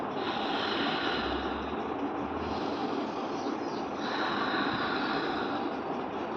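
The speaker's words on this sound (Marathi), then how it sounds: "नाकाने श्वास घ्या आणि तोंडाने सोडा" Ujjayi pranayama breathing, air drawn in through the nose and released through the mouth with a hushed throat friction, a steady close airy rush with a long slow breath cycle and no talking.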